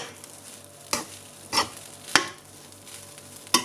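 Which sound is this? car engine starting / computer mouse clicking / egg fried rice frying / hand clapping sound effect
egg fried rice frying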